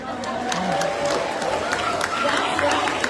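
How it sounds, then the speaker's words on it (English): Students at a Friday school assembly clap and cheer for an undefeated team, a steady crowd applause with voices mixed in throughout. "Let's give them one more huge round of applause, boys and girls."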